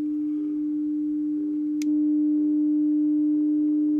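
A steady reference tone from a WWV time-signal broadcast received on a Yaesu FTdx5000MP radio, joined partway through by a second close tone that combines with it and slightly raises the loudness, with a brief click.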